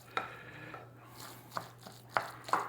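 A knife chops dumpling filling on a board in four sharp, separate strokes, close and crisp, with quiet pauses between them and no talking.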